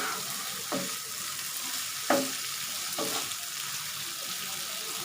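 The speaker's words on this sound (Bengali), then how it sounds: "একটু কলাগুলোকে নেড়ে চেড়ে নিচ্ছি।" Green banana pieces coated in spices fry in a pan under a dense, even hiss, with three louder stirring scrapes spaced a second or so apart.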